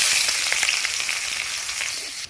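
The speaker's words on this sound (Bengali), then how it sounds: "পাঁচ ফোড়ন লঙ্কা আমার ভাজা হয়ে গেছে এর মধ্যে দিয়ে দিব পেঁয়াজ কুচানো" Steady, crackling sizzle of chopped onion frying in hot oil with panch phoron and chillies, dense and close with small pops scattered throughout, no voices.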